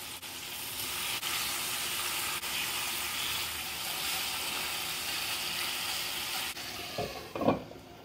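Fish frying in hot oil in a pan, giving a steady, close sizzle throughout, with a brief louder clatter and splash near the end as the fish is turned.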